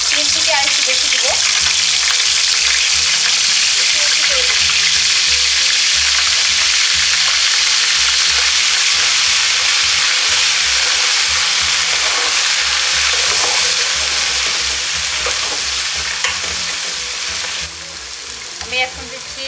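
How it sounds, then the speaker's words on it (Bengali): Ginger and spices fry in hot oil with a loud, dense, continuous sizzle and crackle, stirred close by, easing off slightly in the last seconds, with no voices. "আমি তেলের মধ্যে মশলাগুলো দিচ্ছি"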